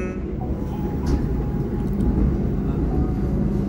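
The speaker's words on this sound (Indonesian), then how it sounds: "Ketika kereta sudah melintasi jembatan Renville" A passenger train on the Jakarta–Jogja line crossing the Renville bridge, heard from inside the carriage as a heavy, continuous low rumble and roar at a steady loud level.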